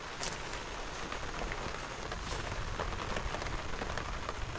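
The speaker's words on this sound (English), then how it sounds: "We're sitting here enjoying our rainy campfire." Steady rain patters on a campsite around a campfire in the Colorado mountains, a dense, continuous hiss of drops close by with faint crackles, no voices.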